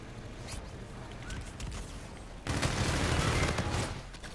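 Submachine gun fire in the Infinite Warfare shooter, starting as a few scattered pops and then turning into a sustained loud burst of rapid automatic shots that fades near the end.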